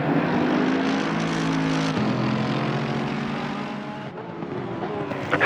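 Race cars in a sim racing video game at Spa, including a Mercedes: a loud, continuous engine roar with shifting pitch as revs rise and drop, and a gear-change dip partway through.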